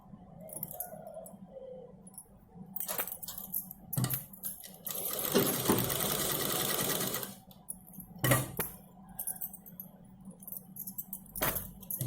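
A sewing machine stitches together pieces of fabric cut from an old nighty, with short bursts of whirring and one longer steady run, between clicks and handling noises in a quiet room.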